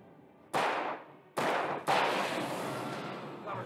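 Loud gunshots in the video game Alan Wake: three sharp blasts with long decaying tails, the last followed by sustained rumbling fire, no talk over them.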